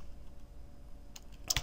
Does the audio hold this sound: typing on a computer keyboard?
yes